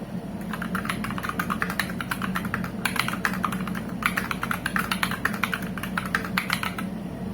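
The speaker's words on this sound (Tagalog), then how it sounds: "Ito naman yung sound ng keyboard after doing all the mod." A modded mechanical keyboard fitted with Night Sakura keycaps is typed on steadily up close, giving a continuous stream of crisp clacky keystrokes with brief pauses and a few denser bursts, with no talk.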